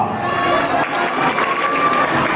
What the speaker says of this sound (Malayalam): എല്ലാവരും വളരെ നല്ല രീതിയിൽ കൈയടിച്ച് പ്രോത്സാഹിപ്പിക്കുക.